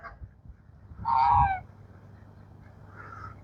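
A duck at a park pond in Shannon Springs Park gives one loud, nasal honking call, followed later by a fainter second call over quiet outdoor background.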